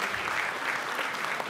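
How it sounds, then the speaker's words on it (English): Audience at an awards ceremony for the 34th Annual Henry Ngai business awards applauds winner Fung Lam with a steady, dense wash of clapping that holds evenly throughout at moderate loudness. "round of applause."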